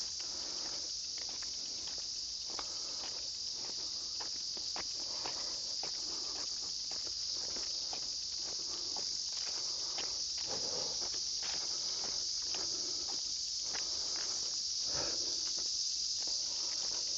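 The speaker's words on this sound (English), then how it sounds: "All the cicadas." Cicadas droning in the Japanese countryside, a dense continuous high buzz that holds steady and loud throughout, with faint scattered crackles and rustles beneath and no talking.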